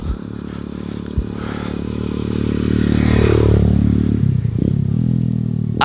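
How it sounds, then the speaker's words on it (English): A motorbike passes by in a park, its engine drone loud and close and rising as it goes past, with a scraping clatter near the end. "there's a fucking motorbike that just passed"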